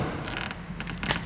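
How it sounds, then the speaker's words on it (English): A Mercedes C-Class W205 passenger door handle is pulled, giving a soft, close plastic creak with a few faint clicks over about a second, with no voices. "you need to pull the door handle"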